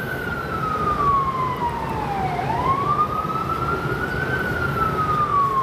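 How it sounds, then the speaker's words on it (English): A loud wailing emergency vehicle siren sweeps slowly down then back up in pitch over a dense rumble of New York City traffic in Brooklyn. "the sirens, that is like total New York sound."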